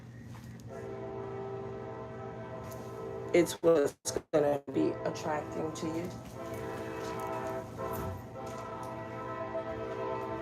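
A train horn blares in several loud blasts over rumbling rail noise at a crossing, with a person talking before and after the horn.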